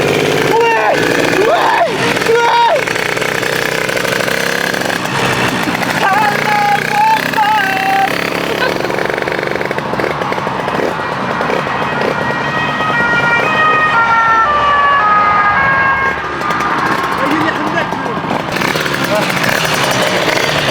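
A Rieju MRT Pro 100cc motorcycle engine with a poorly tuned carburettor fires up and keeps running, a loud rough buzz with wavering pitch that rises and settles, heard up close under excited talking voices throughout.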